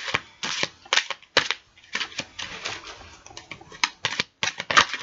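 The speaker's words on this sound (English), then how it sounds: "So I'm going to give these a shuffle." A deck of personality cards is shuffled by hand, with repeated crisp riffling bursts and flutters in an uneven rhythm, close and clear, with no talking.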